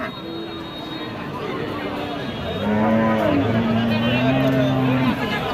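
A thin dairy cow gives a couple of long, low moos over a crowded background of murmuring voices at a cattle market in Bogura.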